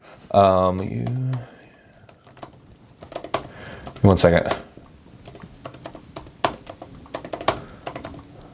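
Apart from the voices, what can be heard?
typing on a computer keyboard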